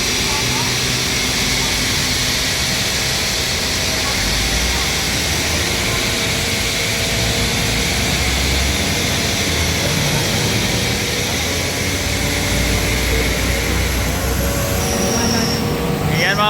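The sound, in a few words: vacuum truck suctioning floodwater on a Manila street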